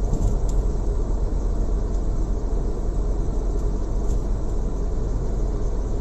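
A car engine in third gear rumbles steadily and loudly from close by in heavy traffic, a low continuous drone without pauses.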